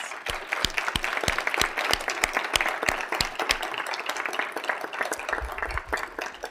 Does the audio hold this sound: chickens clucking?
no